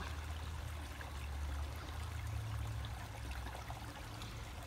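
Steady flowing water of a small backyard creek running through a forest, a continuous low rush and trickle heard alone at a constant moderate level throughout.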